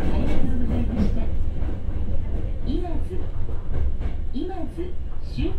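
Hankyu Imazu Line 6000 series train running from Nishinomiya-Kitaguchi toward Imazu, recorded binaurally inside the car: a steady low rumble with rising and falling motor whine, continuous throughout.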